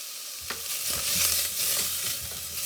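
Onion sautés in a pan with onion powder and tomato paste for a plant-based bœuf bourguignon, a loud continuous sizzle broken by the repeated scrape of a spoon stirring through the mixture, close and without speech.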